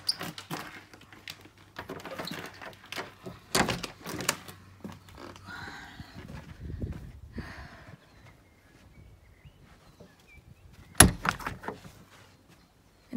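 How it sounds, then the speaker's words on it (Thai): A door opening from a house interior out to a garden in Norway, with a click, a rattle and a sharp thump near the end, set against faint household noise and room rumble. "เปิดประตู"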